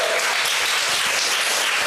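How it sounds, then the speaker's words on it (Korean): A church congregation bursts into applause during a Sunday service, a dense, steady wash of many hands clapping together, fairly close and uninterrupted for a couple of seconds. "동생을 전도했는데 박수 한번 쳐주시죠."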